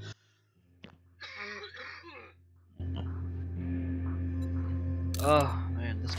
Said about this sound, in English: this cough is terrible